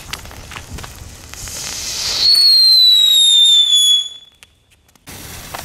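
A Dutch Knetter King firework gives off a loud rushing hiss, then a piercing high whistle that slowly falls in pitch for about two seconds before cutting off, followed by a brief quiet and outdoor background.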